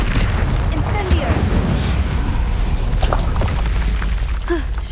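An Incendio fire spell cast in the Hogwarts Legacy video game gives a dense, continuous whooshing roar with low rumbling booms, steady and loud throughout.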